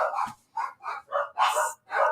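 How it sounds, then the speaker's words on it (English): A dog at home barks in six sharp, evenly spaced bursts, loud and close, with no talk over it, as it reacts to the mail carrier. "should I just try and get my dog to stop barking?"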